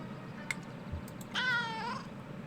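One drawn-out cat meow from the video game Kentucky Route Zero, clear and tonal, sounding near against a quiet humming background with a couple of faint clicks before it.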